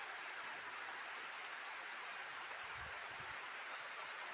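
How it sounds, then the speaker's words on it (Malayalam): Heavy rain falls outside as a steady, faint hiss, soft and distant with no break through the short stretch. "അപ്പോൾ ഇതാ പുറത്ത് വീണ്ടും നല്ല മഴ പെയ്യുന്നുണ്ട്."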